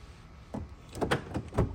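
A few quiet clunks and rattles of a 2019-or-later Volkswagen Jetta door being handled and opened, with faint movement noise around them.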